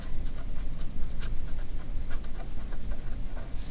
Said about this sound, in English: I'm going to write deoxyribose.